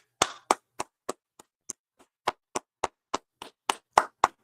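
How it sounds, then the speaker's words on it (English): A single person claps sharply at a steady, slightly uneven pace, about fifteen distinct close claps with quiet gaps between, some softer than others. "Go ahead, clap it up."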